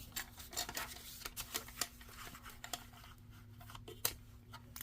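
Paper snipped with scissors while making ephemera pockets: a quiet, close series of short crisp cuts in an uneven rhythm over a faint hum, no talking.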